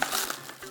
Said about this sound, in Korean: 랩을 이렇게 씌워서